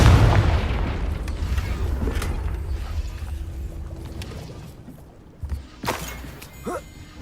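Confringo fire spell in Hogwarts Legacy, a heavy booming explosion right at the start that rolls and fades, followed by scattered clanks and whooshing game effects.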